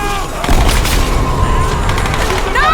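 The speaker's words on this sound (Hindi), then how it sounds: "इतनी गोलियां किस लिए चला रहे" Loud gunfire from the video game Tomb Raider (2013), dense bursts of shots and booms crackling continuously through the whole stretch, with no clear voices on top.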